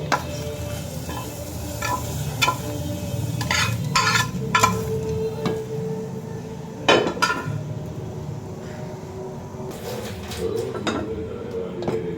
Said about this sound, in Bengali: আমার দুধটা গরম হয়ে গেছে, এই যে সেমাইগুলা দিয়ে দিলাম